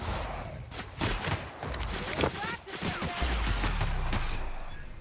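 Pistol shots crack in Who Killed Halcyon Helen, several sharp reports scattered among busy combat noise and footsteps, with a player talking over it.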